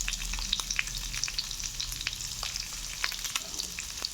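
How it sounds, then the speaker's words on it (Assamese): Onions, garlic and ginger fry in hot oil, giving a steady, close, bright sizzle with a few crackles and the light clicks of stirring throughout. "তেলখিনি গৰম হৈ গৈছে ইয়াতে মই এতিয়া পিঁয়াজখিনি দিছোঁ"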